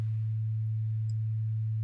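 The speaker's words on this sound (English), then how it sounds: "Now we get just the sine wave at a frequency of 110 Hertz." A pure 110 Hz sine wave plays as a steady, constant low hum with no overtones, unchanging in level and unaccompanied by other sounds.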